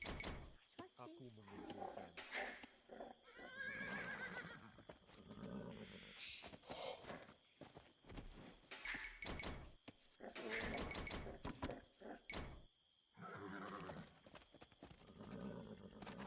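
Horse neighs and whinnies with hoofbeat clip-clop from the Age of Empires 2 real-time strategy game, layered with loud game sound effects and music.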